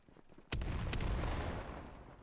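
Grenades go off in a Day of Defeat style WWII online match: a sharp blast lands suddenly, followed by a second crack and a long rumbling decay, fairly faint overall with no talk.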